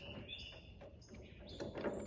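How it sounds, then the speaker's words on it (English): Birds chirp faintly outdoors, scattered thin tweets over a soft background hush, distant and quiet with no voices. "Much better for you to hear the birds."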